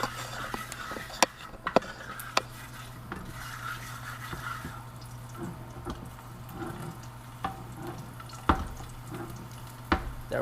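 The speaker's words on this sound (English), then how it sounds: "the oil is starting to get hot, right? It's starting to work on the garlic" Garlic and sugar sizzle softly in hot oil in a pan, a low steady fry broken by sharp utensil taps and scrapes, close and without talk.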